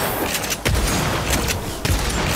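Gunfire bursts in the video game Agents of Mayhem, a dense fusillade of shots with heavy booming impacts, loud and continuous across the moment with a sharp blast near the start and another toward the end.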